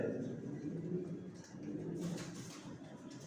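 Pigeons cooing in a pigeon loft, low repeated rolling coos at moderate distance, faint and continuous with a person talking quietly in the background.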